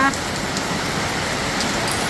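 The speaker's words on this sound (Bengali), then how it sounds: "ভালোই বৃষ্টি পড়তেছে, খুব সুন্দর বৃষ্টি পড়তেছে।" A steady, even hiss of rain falls throughout, a dense continuous patter at moderate loudness.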